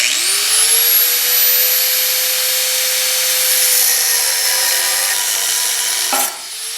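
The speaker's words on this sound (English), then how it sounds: "I think I'll use a cutoff wheel so it's a nice clean cut, and we'll try to get straight across here" An air-powered cutoff wheel slices through welds on a GM A-body GTO's rear coil-over mount, spinning up into a loud, steady, close whine that grinds through metal before briefly easing off near the end.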